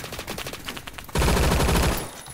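Gunfire in Phantom Forces: a rapid stuttering run of shots is followed by a single heavy, loud shotgun blast that booms and rings out for nearly a second before trailing off.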